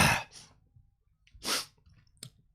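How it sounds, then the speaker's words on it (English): A person sneezes hard, one sharp burst near the start and a second, louder one about a second later, then a short catch of breath or sniff at the end, close and alone with no talking. "I've got to sneeze."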